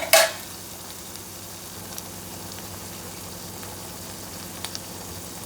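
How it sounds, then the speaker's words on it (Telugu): Bitter gourd fries with masala in a pan, opening with a loud scrape of stirring, then settling into a steady, even sizzle with a few faint taps later on; no talking. "ఈ మసాలా కాకరకాయ పట్టే వరకు కలుపుకుందాం"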